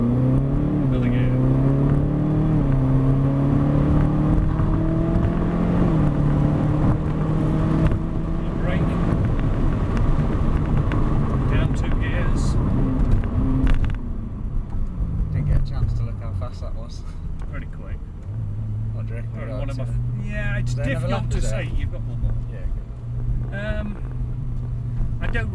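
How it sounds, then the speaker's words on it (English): A Ferrari supercar engine roars and revs, pitch climbing through gears before dropping to a lower drone, with loud wind and road noise throughout. "I just know with the sound of the engine."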